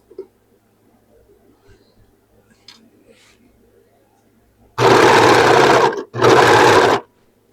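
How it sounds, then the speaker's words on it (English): A sewing machine stitching the seams of an upcycled dress, two loud, steady whirring runs of about a second each, close up, following a quiet stretch of small handling noises. "let's get these two seams sewn"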